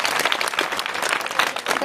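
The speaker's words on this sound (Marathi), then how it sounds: "सर्वांनी टाळी वाजवली" Applause from an audience at a Marathi kirtan devotional comedy performance, a dense continuous patter of many hands clapping close by, steady throughout with no talk over it.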